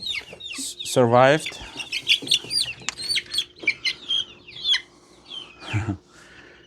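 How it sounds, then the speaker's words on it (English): Black copper marans chickens clucking and calling on a small farm in Manitoba, a busy run of close, chattering clucks and squawks with one drawn-out call near the start, a brief word spoken among them. "These are the black copper marans."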